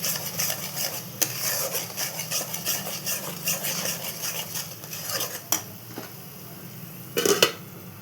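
Bitter gourd with turmeric and salt is stir-fried in a pan: a faint background sizzle runs under frequent scraping of a metal spatula against the pan, with a few sharper clinks near the end.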